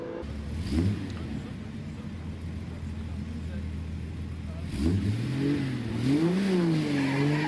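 Vintage Sunbeam Talbot Lago racing car at the Prescott hill climb, engine droning steadily and then rising and falling as it revs through gears, heard under a commentator's talking.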